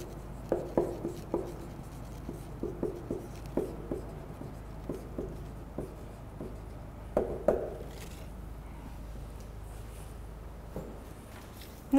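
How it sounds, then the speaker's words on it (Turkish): Marker or chalk strokes tap and scrape on a board in short, rhythmic bursts during a fourth-grade science lesson on magnet poles, fairly quiet and close, with a few pauses between strokes and no speech. "Burada yazayım."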